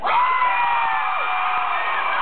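Audience at a live comedy-style show breaks into loud, sustained cheering and whooping, a dense crowd roar that holds steady for a couple of seconds with no applause bursts standing out.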